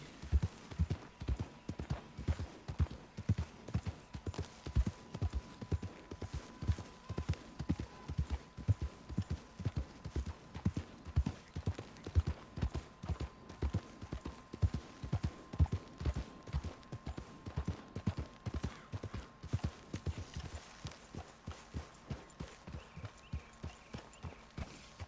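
Steady rhythmic clip-clop of horse hooves walking at an even pace in Red Dead Redemption 2, close and distinct, with a faint tone humming underneath.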